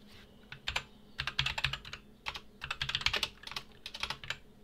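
Close, steady typing on a computer keyboard: quick bursts of clicking keystrokes separated by short pauses, with no talking.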